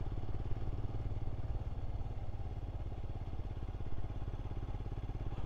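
A Royal Enfield Scram motorcycle rides along a quiet country lane in Wales, its single-cylinder engine thumping in a steady, rapid low pulse, loud and close throughout.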